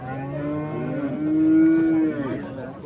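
A cow moos loudly in one long, drawn-out call, rising and falling, over a busy outdoor background hum at a livestock market.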